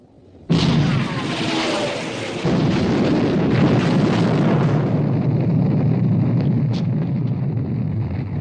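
Heavy naval gunfire and shell bursts in a 1960 war film about sinking the Bismarck: a sudden loud blast, then a sustained, rumbling roar of explosions and battle noise that slowly fades.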